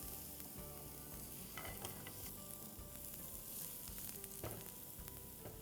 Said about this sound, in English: Next we'll add in our chopped onions. And let's mix this around.